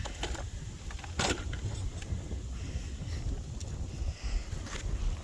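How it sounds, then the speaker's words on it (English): Strong, gusty wind roars steadily across the microphone outdoors as a dense, rumbling rush with a few sharper buffets, and no one speaks. "This wind is brutal."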